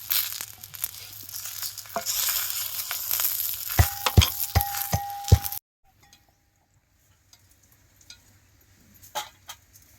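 Taro leaf vadis sizzle steadily in a hot pan with a few sharp metallic clinks of a spatula, then the frying abruptly cuts to near silence with faint clatter near the end.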